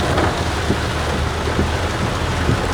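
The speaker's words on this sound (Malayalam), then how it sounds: "കാണാൻ പറ്റാത്ത മഴയാണ് കുടുത്തം വിട്ട മഴ" Heavy rain pours down on a road in a dense, continuous roar, with low rumbles underneath and no voices.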